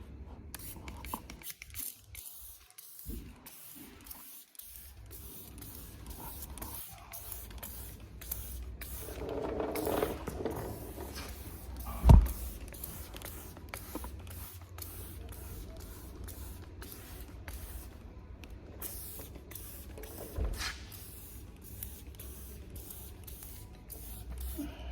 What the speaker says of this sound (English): when I spray the tar remover onto it, it will just start bleeding off the paintwork